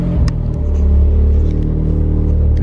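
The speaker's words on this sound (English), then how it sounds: "the clutch is down and the car is loud" A VW MK7 Golf R engine idles loudly during a cold start with the clutch held down, a deep steady rumble close by, with a few faint clicks near the start.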